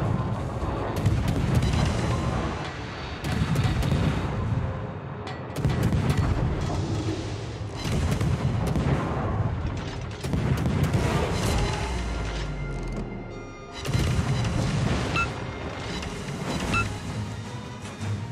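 Gearing destroyer guns firing repeatedly at the Moscow in World of Warships, loud booming salvos in a steady rhythm over a constant battle rumble, with short breaks between volleys.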